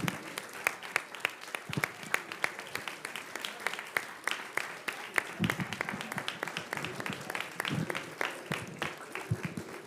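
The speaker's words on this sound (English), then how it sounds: "Everybody clap. Everybody clap for Nancy. Yeah, stand up and clap for Nancy." An audience at a siyyum celebration claps for Nancy, a sustained round of crisp, fairly close hand claps with slightly uneven rhythm, and voices murmur faintly underneath.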